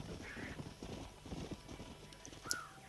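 Horse hooves clip-clopping at a steady riding pace in the Red Dead Redemption video game, close and rhythmic over an open landscape, with a brief whinny-like cry and faint background ambience.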